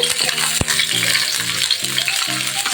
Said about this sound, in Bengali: এই মুড়িঘণ্টটি তেলের মধ্যে ছেড়ে দিচ্ছি মুড়িঘণ্ট মাথাটি।